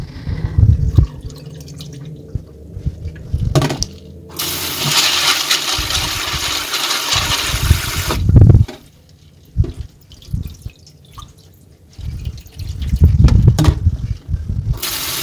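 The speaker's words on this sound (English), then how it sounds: "So you have to wash this twice and then squeeze the beans." Water splashes and trickles as soaked beans are washed by hand, with irregular bursts of running and dripping water and sloshing close by.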